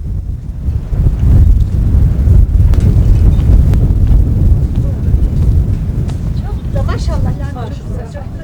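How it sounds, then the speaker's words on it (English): Strong wind in a mountain valley buffets the microphone in a loud, continuous low roar, with a voice speaking over it toward the end. "As you can see, it gets pretty windy in the valley."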